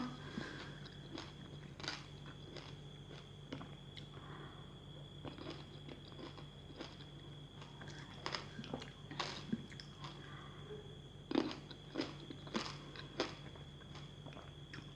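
Crunchy sweet red grapes bitten and chewed close up, a run of soft crisp bites and wet chewing with a few sharper crunches near the end, against a low steady hum.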